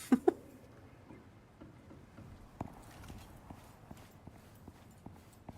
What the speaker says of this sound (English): What is running away? Is that the goat? That's the goat.